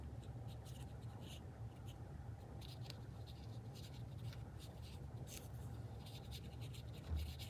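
A Stabilo All pencil scribbles and scratches on paper in steady, close strokes. The sound is quiet and continuous, with no talking.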